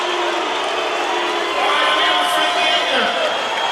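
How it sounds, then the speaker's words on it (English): A large arena crowd at a Benson Henderson vs Frankie Edgar fight cheers and roars continuously, loud and sustained with scattered whoops and shouts. "Frankie, this crowd is cheering for you."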